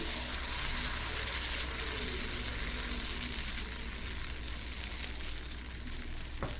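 Fermented mudakathan keerai dosa batter spreading over a hot griddle, giving a steady broad sizzle and hiss that runs evenly and slowly eases off.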